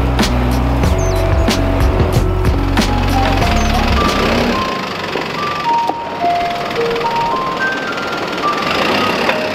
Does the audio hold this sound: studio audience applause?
no